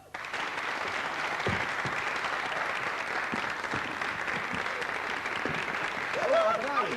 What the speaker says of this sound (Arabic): تصفيق على صالح